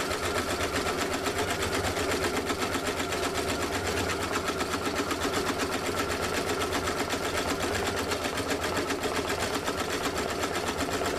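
An embroidery machine runs at 800 RPM, stitching a side-front design on a cap held in a Durkee hat hoop. Its dense, rapid needle chatter stays steady and close throughout, with no talk over it.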